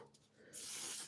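A single close burst of makeup setting spray gives a short, sharp hiss of about half a second after a brief quiet moment.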